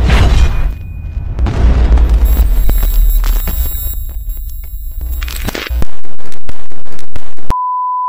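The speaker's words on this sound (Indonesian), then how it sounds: "Film diawali dengan menampilkan sebuah benda angkasa yang tiba-tiba meledak." A space object bursts apart in the Fantastic Four film with a loud, roaring boom and crackling debris, then cuts to a steady electronic beep tone at the end.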